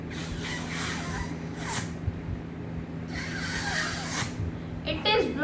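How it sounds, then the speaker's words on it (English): Someone blowing hard into a balloon fitted over a bottle neck, two long breathy puffs of air separated by a pause, close up over a low background hum. "Now I am trying to blow this balloon."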